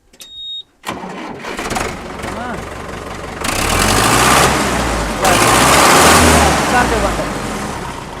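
A tractor engine cranks and catches, then settles into a loud, steady diesel idle with a rough chugging rhythm and a couple of revving surges.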